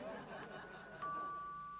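A doorbell chimes in a home, a clear sustained ding tone entering partway through after quieter room sound, with faint laughter in the background.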